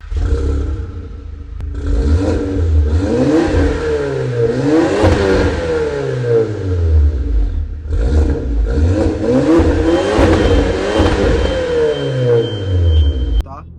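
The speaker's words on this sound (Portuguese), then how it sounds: "o ronco do meu Audi A3, que ele não tem difusor" An Audi A3 without an exhaust diffuser revs hard, its sporty exhaust roaring in repeated rising and falling sweeps, two long bursts split by a brief dip, loud and close.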